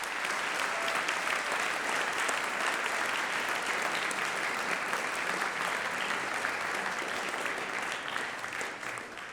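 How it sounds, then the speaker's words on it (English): Audience applause at a school winter concert, a steady dense wash of clapping that stays loud throughout and tapers slightly at the end, with no talking. "Can we give them a big round of applause?"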